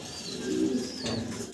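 Pigeons at a pigeon farm coo close by, one low, throaty burst swelling and fading, then a second softer coo, over a faint background before the sound cuts off abruptly.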